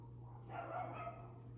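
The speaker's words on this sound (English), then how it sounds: "the dogs are barking" A dog gives a brief muffled bark somewhere in the distance behind a steady electrical hum indoors, faint and short.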